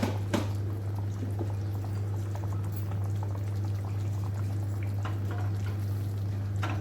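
More hot water poured into simmering kadhai paneer curry gravy, a continuous liquid stream with a brief splash near the start and light bubbling under a steady hum, no voices.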